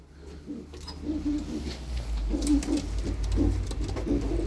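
Pigeons in a pigeon shop in Kocaeli cooing in repeated low, soft rolling calls, several birds close by over a constant low hum of the room.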